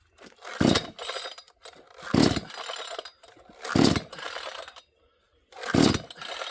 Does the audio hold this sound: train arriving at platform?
no